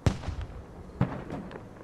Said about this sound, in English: See a lot of smoke. Explosion there.